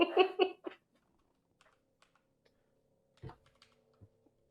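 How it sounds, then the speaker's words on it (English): Computer keyboard typed on slowly, a few sparse, faint key taps spread out after a brief burst of talking, with long quiet gaps between presses. "I am typing very slowly because I want to get it right."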